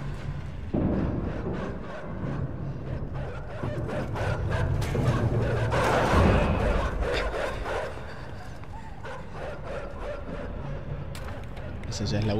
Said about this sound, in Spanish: Y vienen los perros.